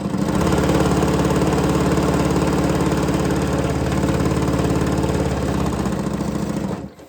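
A sewing machine chain-pieces joined fabric strips for a twisted-strip quilt, giving a steady, close motor whir that runs unbroken for about seven seconds before stopping abruptly at the end.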